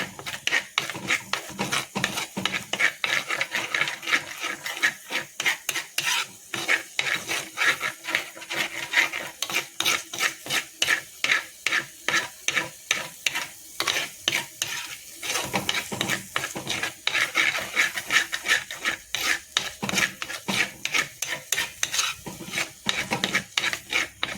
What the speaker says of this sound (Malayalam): അതിൻ്റെ ആ പച്ചമണം മാറണ വരക്കൊന്ന് നമ്മൾ ഇത് ഇളക്കി കൊടുത്തുകൊണ്ടിരിക്കണം